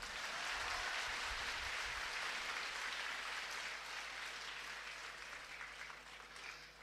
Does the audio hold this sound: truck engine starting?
no